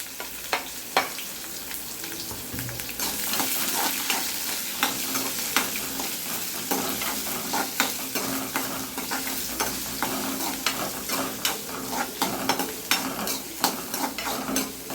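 Dried red chillies and onions fry over a high flame in a pan for ragi flour adai, with a steady sizzle broken by frequent scraping stir strokes and light clinks, close up and with no talking.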